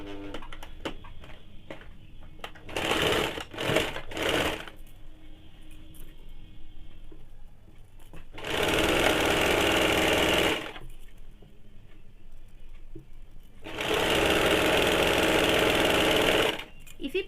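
Sewing machine stitching the folded hem of a cotton kaftan nightie, running in three loud sustained bursts of a few seconds each, with quiet pauses between them.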